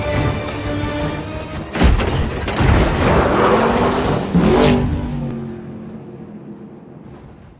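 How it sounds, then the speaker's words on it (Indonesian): A Chevrolet Corvette Grand Sport bursts out of a train in a movie chase scene, with a heavy thud followed by a loud engine roar and crashing impacts that fade into quieter rumbling. "Dom berhasil keluar dari kereta dengan mobil Chevrolet Covid Sport C19"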